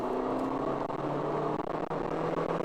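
Maruti Swift engine held at high revs around 5000 rpm, a steady close buzzing drone with small flickers in pitch, no one speaking over it.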